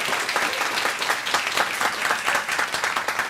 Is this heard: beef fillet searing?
no